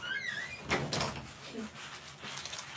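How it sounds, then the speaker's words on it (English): An interior door swings shut at home with a brief thud and some rattle near the start, then a quieter knock follows; a dog's noises and a voice sit faintly in the background. "Let me close the door."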